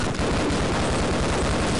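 A grenade blast in the Half-Life video game makes a dense, loud, rumbling burst of noise. It lasts under two seconds with a booming low end and no talk over it.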